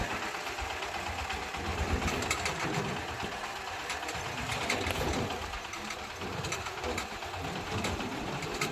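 An engine rickshaw's motor drones steadily while it is driven, a loud, constant rattling hum with no pauses and no speech.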